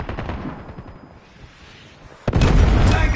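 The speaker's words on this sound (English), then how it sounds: "Friendly predator missile inbound." A predator missile strike in a first-person shooter video game: a low rumbling lead-in, then a sudden loud blast that cuts in and sustains to the end.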